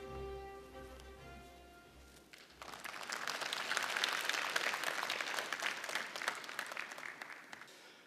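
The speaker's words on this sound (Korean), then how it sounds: "큰 박수로 환영해 주십시오" Applause welcomes a provincial governor to the stage at a regional forum, rising out of a fading sustained music cue into a full, steady clapping of a large hall audience that swells and holds.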